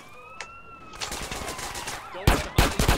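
Police gunfire in GTA San Andreas, scattered shots at first, then louder sharp bursts near the end, with a siren-like tone faintly at the start.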